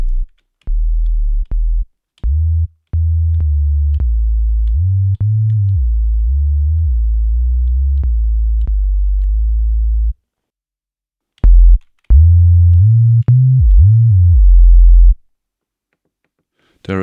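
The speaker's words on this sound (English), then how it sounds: "So I'm using the disting now for the sub-bass." A deep sub-bass sine tone from a Disting module in a modular synthesizer rig plays in sustained notes with pitch changes, broken by brief gaps and faint clicks, clean and loud.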